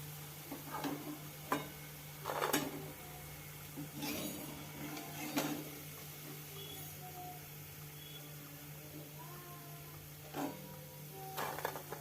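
Spinach bhaji fritters frying in oil make a faint, low sizzle under a steady hum, broken by several sharp clicks and clinks of utensils spaced irregularly throughout.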